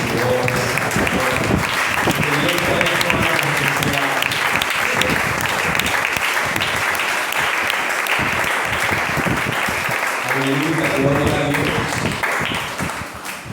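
A church congregation breaks into sustained, loud applause, with scattered voices calling out within the clapping before it tapers off near the end.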